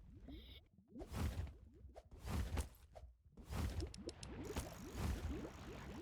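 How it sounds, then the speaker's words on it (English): Wet, gurgling bubbling pops in repeated bursts, rising and fading in waves over a steady low rumble, with no talking, from the toxic grove area in the Roblox game Fisch. "I'm reading and you'll hear bubbling sound"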